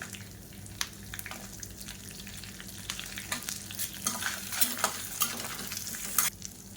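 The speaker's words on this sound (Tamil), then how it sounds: "இப்போ எல்லாமே லேசாக வதங்க ஆரம்பிச்சிருச்சு" Dried red chillies, curry leaves, ginger and green chillies sauté in an oil-filled pan for a lentil chutney, giving a steady soft sizzle with scattered crackles and pops, close and fairly quiet, no voices.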